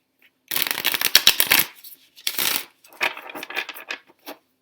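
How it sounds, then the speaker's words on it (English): Tarot cards being shuffled by hand in two main bursts of dense, rapid riffling and flicking, then a few softer, scattered card slaps and taps, close and fairly loud with no talking. "I'm having trouble shuffling these cards today"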